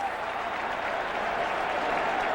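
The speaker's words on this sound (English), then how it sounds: "Crowd is getting loud." Football stadium crowd at a Giants versus Cowboys game cheering loudly and steadily, a dense continuous roar of many voices with no pauses.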